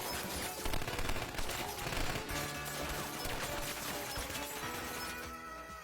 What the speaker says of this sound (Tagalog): Naiwasan ni Dong Chul ang putok ng baril.